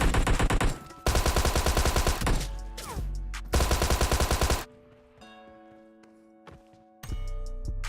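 Close-range hip-fire gunshots in the mobile game PUBG Mobile ring out as loud, rapid automatic bursts, three main volleys with a short pause between them, then a ringing lull and a final burst.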